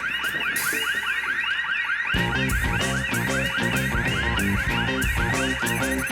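A car alarm blares continuously, cycling through its warbling and pulsing tones, loud and steady throughout.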